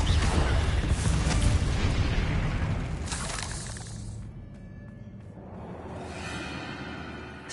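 A Confringo fire spell exploding in the game Hogwarts Legacy, a loud, close boom with a crackling, rumbling tail that fades over several seconds before a second, lighter burst near the end.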